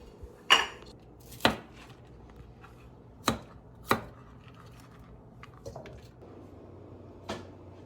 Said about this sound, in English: we're gonna chop this up, the cauliflower, into small florets.